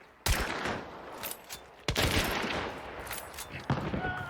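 Gunshots in a video game, including fire from a nitro weapon: three separate loud, sharp blasts go off a second or two apart, each leaving a long echoing tail and a low rumble that fades between shots.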